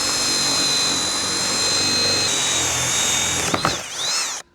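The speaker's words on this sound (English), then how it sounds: "Take our 3/4 inch hole saw, get that right on there." A 3/4 inch hole saw on a drill cuts steadily through material for an off-grid solar carport footer, a continuous whining grind that runs several seconds, then winds down with a brief pitch sweep and stops.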